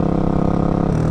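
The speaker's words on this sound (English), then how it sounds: "You hear it engine braking" A motorcycle engine fitted with a Rekluse clutch engine-braking on a downshift, a steady close rumble with a droning mid-range note and a slight pitch shift near the end, with no voices.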